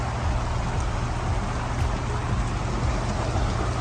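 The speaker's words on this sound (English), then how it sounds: "it's monsooning outside" Heavy monsoon rain pours down outside a tent, a dense, constant hiss of drops drumming on fabric, steady and close throughout with no speech.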